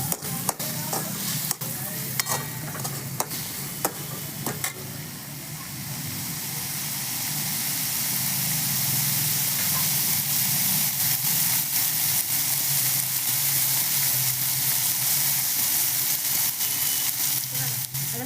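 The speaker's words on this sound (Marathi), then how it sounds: "आपण थोडासा कांदा टाकणार आहोत हे छान असं कांदा एकदम नरम होईपर्यंत आपण परतून घेऊयात" Onion sautéing in a hot pan for pav vada, at first with scraping stirs over the sizzle, then settling into a loud, steady, close frying hiss.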